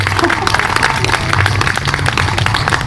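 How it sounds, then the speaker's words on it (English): Dense applause from a crowd at a Relay for Life kickoff event honoring caregivers, steady and loud across the whole stretch with a low murmur underneath. "let's give them a round of applause"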